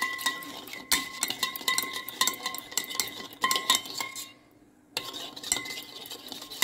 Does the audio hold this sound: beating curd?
yes